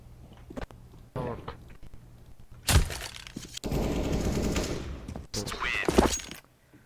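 Video game gunfire plays as clips are edited: sharp, loud cracks and bursts of shots arrive irregularly, with a sustained stretch of rapid fire in the middle amid other game sounds.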